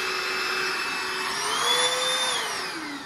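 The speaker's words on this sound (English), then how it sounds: "It's easy to just vacuum the tank up." A small rechargeable two-speed vacuum cleaner runs steadily while cleaning up spilled salad in a bearded dragon's tank, a close, loud whine whose pitch rises and dips as the nozzle moves, with no talking.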